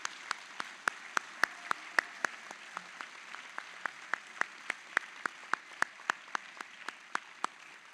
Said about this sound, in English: Round of applause for our staff who made this happen.